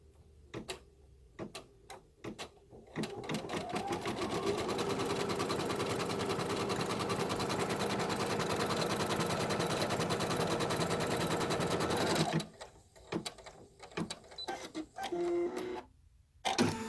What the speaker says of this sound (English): The first step is going to sew a placement line right on your stabilizer.